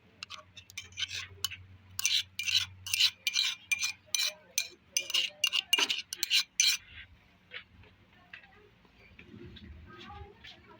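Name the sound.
mixing pounded tomato chutney paste in a bowl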